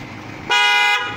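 A loud aftermarket Kostef extreme horn on a Mitsubishi Adventure gives a single bright, blaring blast of about half a second, close and piercing over a low background.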